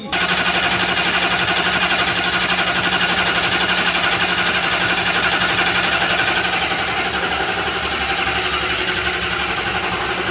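A Dodge Duster engine cranks on its starter in a rapid, continuous, loud mechanical chatter that holds steady for about ten seconds at close range.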